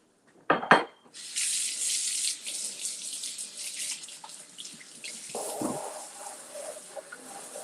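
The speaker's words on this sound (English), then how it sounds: "one last hand washing" Hands washed under a running kitchen tap during a cooking session, a brief clatter at the start and then a steady close hiss of flowing water that softens near the end, with no voices.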